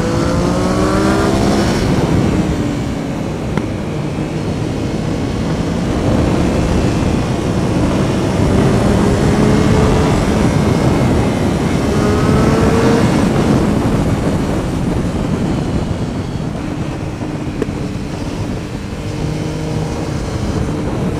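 Kawasaki Z1000 2003 motorcycle ridden hard on a country road, its engine droning loud and steady throughout with rising and falling pitch under heavy wind rush, no voices.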